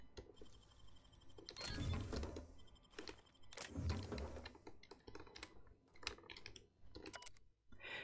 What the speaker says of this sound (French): Ah, ce clavier, il fait un bruit monstrueux.